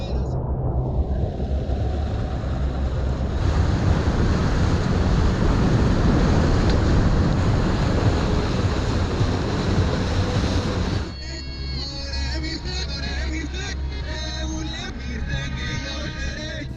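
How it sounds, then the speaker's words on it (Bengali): Speedboat running across open sea in Colombia toward Isla Grande in the Rosario Islands: a loud, steady rush of engine, wind and spray that drops suddenly near the end to a quieter hum with splashing water. "সমুদ্রের জলে কিছুটা সময় ভেসে বেড়ানোর পর স্পিডবোট এবার যাচ্ছে আইলা গ্রান্দের দিকে"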